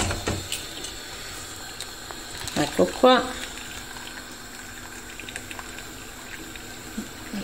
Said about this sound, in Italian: E la vado a trapastare qui nelle cozze